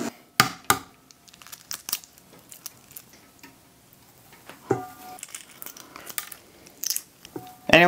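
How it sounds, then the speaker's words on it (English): Hard-boiled eggs being peeled by hand for deviled eggs, a scatter of close crackling shell breaks and crinkly picking sounds with quiet pauses between, no talk. "Now we're gonna drain them, cool them down, and get to peeling."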